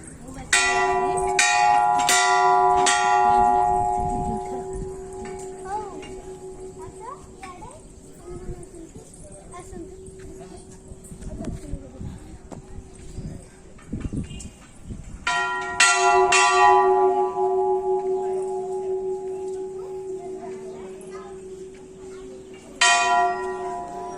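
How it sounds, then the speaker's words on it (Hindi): A large Hanuman temple bell rings out in repeated clangs, fading and then struck again, with children's voices and chatter in the background. "बड़ घंटी अच्छी"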